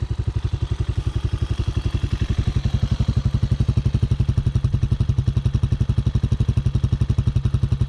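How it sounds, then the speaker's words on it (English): A High West Hawk 250cc street-legal dirt bike idles close by with a steady, rapid putting exhaust beat, low and even throughout. "Let's listen to the exhaust for a second."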